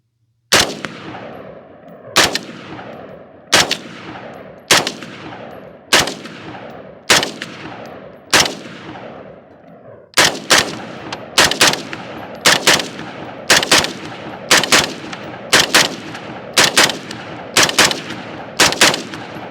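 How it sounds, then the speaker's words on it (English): Semi-auto rifle fitted with an Atrius forced reset selector fires a string of about twenty loud, sharp shots, first spaced roughly a second apart, then quicker and evenly paced, each with a short ringing decay. "First rounds out of the rifle with the Atrius."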